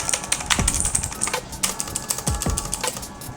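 Clicky Cosmic Byte CB-GK-16 Firefly mechanical keyboard being typed on, a rapid run of sharp, close key clicks with a few heavier strokes and no talk.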